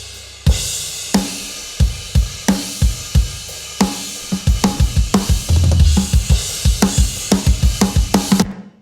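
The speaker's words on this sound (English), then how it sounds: "when you mix it with the rest of the kit, and you've got compression on the whole drum bus and that sort of thing" Full drum kit playing a steady groove with a prominent snare, the whole kit squeezed by bus compression; regular punchy hits with kick and snare alternating, loud and close, no talking.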